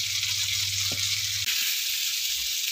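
Garlic and onion frying in a pan, a loud continuous sizzle with a low hum underneath that cuts out partway, no talking over it.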